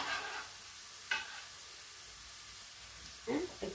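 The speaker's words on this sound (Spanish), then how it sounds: "Ahora vamos a poner el pimiento." Chopped pepper hits a hot pan for a chickpea, spinach and hard-boiled egg stew, giving a steady soft sizzle with a couple of brief scraping stirs.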